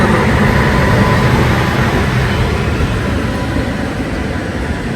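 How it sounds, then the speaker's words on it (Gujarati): A train pulls into a station near an open level crossing, a loud continuous rumble that slowly eases off over the stretch, with no talk. "ટ્રેન આવી ગઈ છે પણ ફાટક હજી બંધ નથી કરી દેખાય જો"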